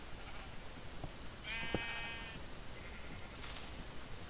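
A single short sheep bleat sounds faintly in a video game amid low background noise, followed by a soft burst of hiss.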